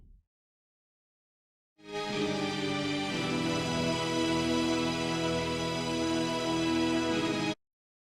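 Keyboards track from a black metal song, heard alone after a short silence: sustained, organ-like synth chords holding a smooth, rich drone for several seconds before cutting off cleanly.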